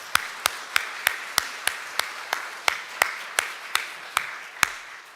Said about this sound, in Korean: 수고하신 모든 분들을 위해서 우리 박수하며 격려하겠습니다